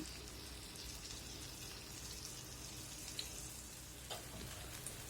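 Steady crackling sizzle of a fenugreek paratha frying in oil on a hot griddle, continuous and close, with a couple of faint clicks; no talking.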